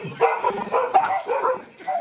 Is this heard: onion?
no